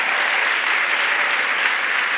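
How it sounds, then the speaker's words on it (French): A church congregation claps for Jesus, a loud, dense and unbroken roar of applause filling the room without pause. "Let's clap for Jesus."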